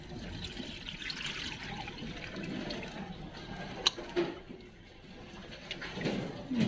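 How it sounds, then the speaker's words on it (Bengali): Fertilizer water pours and trickles onto the bases of potted plants, a quiet, uneven splashing with a few sharper drips and knocks close by. "এই সার জল নিয়ে এসেছি, দিয়ে দেব।"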